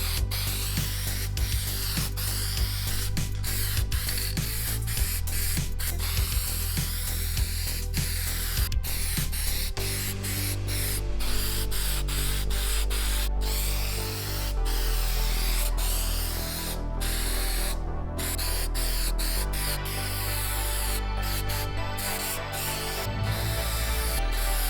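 A thick peelable coating is sprayed onto a surface in a steady, continuous hiss that runs near and loud, broken by brief pauses and clicking as the sprayer stops and restarts.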